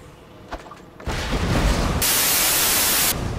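A firework launches in Borderlands 2 with a sudden roaring whoosh after a brief quiet pause, followed by a loud hissing burst that holds steady before cutting off.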